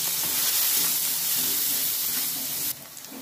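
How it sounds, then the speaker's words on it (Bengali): Onions fry with salt and turmeric for a Bengali cabbage curry with prawns, giving a steady, loud broadband sizzle and hiss that runs unbroken, then drops abruptly quieter near the end. "সামান্য নুন দিয়ে দেবো আর হলুদ দিয়ে আমি পেঁয়াজটাকে ভেজে নেব।"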